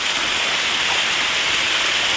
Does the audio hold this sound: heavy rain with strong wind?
yes